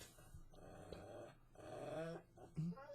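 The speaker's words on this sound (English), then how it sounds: "he's getting the dog growling, making noises, whining" A dog growls and whines in short, uneven bursts close by, with a soft rising whimper near the end, amid a quiet household background.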